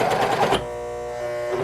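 A serger sews through six layers of fabric: a short burst of fast mechanical stitching hum, then it stops abruptly, leaving a faint steady tone from the idle machine.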